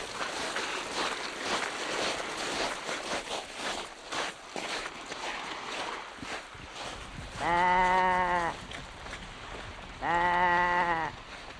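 A sheep bleats twice, loud and close, each a wavering drawn-out call about two seconds apart, after a stretch of shuffling, footstep-like noise in a children's animated film.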